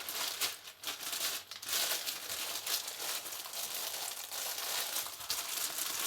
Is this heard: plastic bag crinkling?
yes